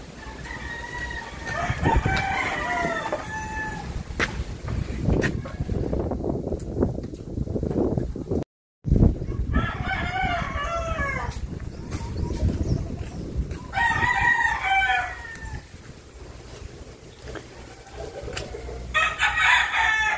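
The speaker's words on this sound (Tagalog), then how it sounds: "Nag-evacuate yung mga manok." Chickens cluck and squawk nearby while a rooster crows several times during a typhoon, with the flock's noise continuing throughout and a brief dropout midway.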